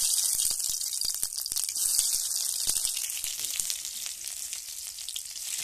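Raw onions frying in hot oil, a dense continuous sizzle with crackling pops close by and scattered stirring sounds.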